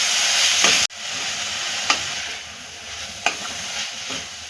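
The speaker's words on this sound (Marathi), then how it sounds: "आता आपण ही मसाल्यांमध्ये पूर्ण व्यवस्थित सुकट परतून घेऊया" Dried shrimp stir-fried in hot oil with spices, a loud continuous sizzle close by, punctuated by a few sharp spatula clacks and scrapes against the pan.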